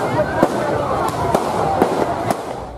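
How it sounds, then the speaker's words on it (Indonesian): New Year's fireworks pop and boom at irregular intervals over Taman Bambu Runcing park in Pangkep, Indonesia, several sharp bursts over a dense crowd murmur and outdoor rumble. "menikmati suasana pesta kembang api yang menghiasi langit Kota Pangkep"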